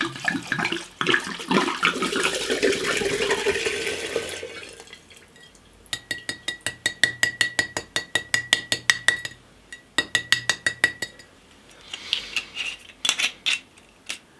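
Scotch whisky is poured into a container for a homemade winter dram, first as a continuous gurgling flow, then as a quick series of sharp glassy clinks and drips that come close and fairly loud.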